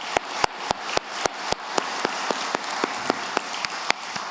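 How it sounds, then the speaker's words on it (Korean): At an Easter Sunday service, a Korean church congregation claps together in a steady, even beat, with sharp unified claps about three or four times a second over a wash of scattered hand noise. "우리 하나님께 영광의 박수하도록 하겠습니다."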